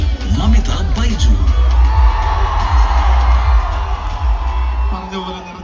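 Fans at LuLu Mall in Trivandrum whoop, yell and cheer as film actress Mamitha Baiju walks onto the stage, a loud, continuous crowd roar mixed with shouting voices.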